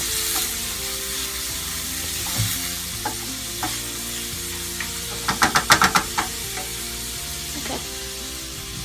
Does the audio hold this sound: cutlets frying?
yes